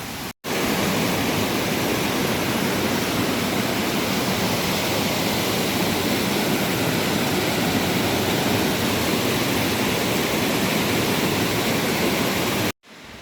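Thick, unbroken rushing of a powerful waterfall near Chiang Mai, Thailand, fills the air loudly and evenly for several seconds, with brief dropouts at the very start and end and no talking.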